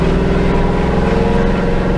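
Ford Raptor pickup fitted with a Ducati SPS exhaust, heard from inside with the windows down: a loud, steady, deep engine drone with a throbbing exhaust rumble, continuous and unbroken.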